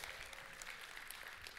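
A church congregation applauds and cheers in a steady, even wash of many clapping hands, faint and distant, with no talk over it.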